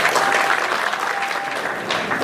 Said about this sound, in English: Come on, big round of applause.